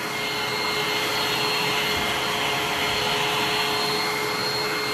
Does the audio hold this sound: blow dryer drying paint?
yes